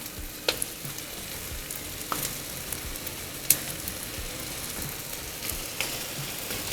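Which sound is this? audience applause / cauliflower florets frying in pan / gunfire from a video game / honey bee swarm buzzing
cauliflower florets frying in pan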